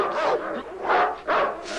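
Small dogs bark in three close, sharp bursts, each a quick yappy call, loud and near with brief gaps between them.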